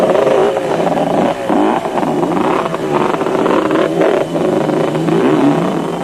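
Quad bikes and off-road vehicles roar past at the 1998 Caledon 400 off-road race in South Africa, a steady loud wash of revving engines with rising and falling pitch and no gaps.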